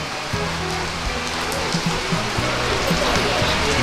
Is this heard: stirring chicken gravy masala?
no